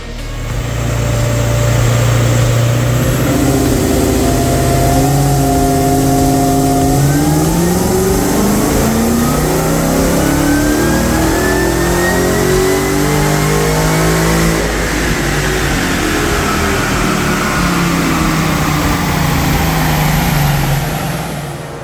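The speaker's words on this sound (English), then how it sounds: "And now it's onto our dyno, where our expert tuners will load a custom tune file and adjust for maximum safe power." A Ford FGX XR8 with a Stage 4 power upgrade revs hard on a dyno, its loud engine note climbing steadily through repeated gear pulls and sweeping up in pitch before holding a sustained high-rpm roar.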